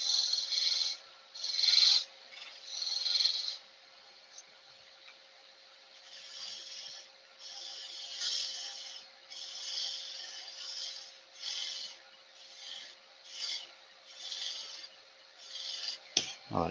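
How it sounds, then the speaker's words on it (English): Sanding a wooden vase spinning on a lathe with 100 grit sandpaper, repeated rasping strokes in bursts and pauses, fairly close, over a faint steady hum. A short thump comes near the end. "we'll just do 100 grit sand quickly on the outside of it"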